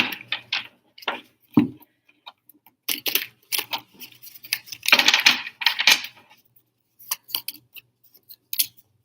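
Tarot cards being pulled and handled: a run of short, crisp shuffles, flicks and taps in irregular bursts, close and fairly loud against quiet, with no speech.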